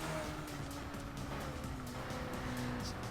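A car in the racing game Midtown Madness 3 speeding along, with a steady engine whine whose pitch slides up and down through gear changes, and a brief tire squeal near the end, moderately loud and continuous.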